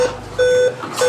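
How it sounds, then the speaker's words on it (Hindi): Laptop with a display fault sounding repeated electronic beeps: steady high tones in three bursts, loud and close, with no talking. "डिस्प्ले का इशू ही है, जो बीप साउंड दे रहा है"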